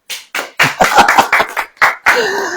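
Scattered hand clapping during a Hindi sermon, with a few separate loud claps in an irregular rhythm, close and sharp, rather than a full crowd ovation.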